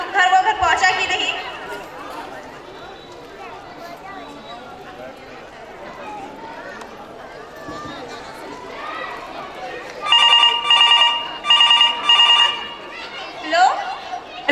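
A telephone rings in short repeated bursts during a school annual-day stage play, heard over steady audience chatter and actors' voices.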